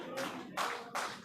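A seminar audience claps in three bursts to welcome award achievers at a recognition ceremony, the applause swelling and restarting in short surges with no talking over it.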